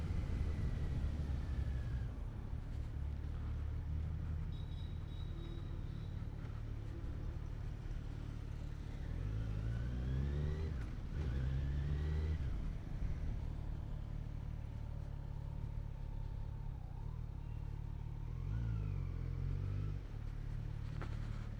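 A 2020 Kawasaki Z900 motorcycle being ridden through Mumbai, its engine rumbling steadily with repeated rising revs through gear changes and a low growling idle between pulls, heard from the rider's position.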